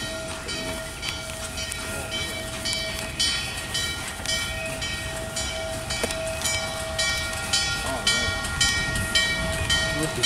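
A westbound Pennsylvania railroad train passes close by, its steady rumble and rhythmic clatter of cars running continuously throughout.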